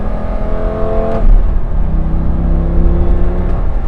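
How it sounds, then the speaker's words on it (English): A 2008 Lamborghini Gallardo engine heard from inside the car, droning steadily, with a sharp throttle blip on a downshift about a third of the way in and a smaller rev rise near the end. "The downshifts have a nice blip to them."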